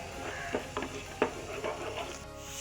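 A spoon stirs a sweet banana filling with sugar in a frying pan, with a few soft scrapes and light clinks over a faint sizzle, quiet and without talk.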